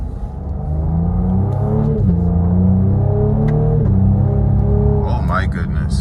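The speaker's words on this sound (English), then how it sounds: "see and hear how this sport mode sounds shifting from first" A 2022 Cadillac CT5 V-series sedan in sport mode revs loudly from inside the cabin, its engine note climbing and dropping through successive gear shifts, with a few sharp crackles near the end.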